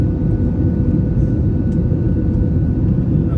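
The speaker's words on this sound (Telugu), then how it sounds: "ఫ్లైట్ అయితే ల్యాండ్ అయిపోయింది" Inside a passenger airplane flying from Malaysia to Guangzhou, a dense, loud, unbroken low engine and cabin drone holds steady throughout.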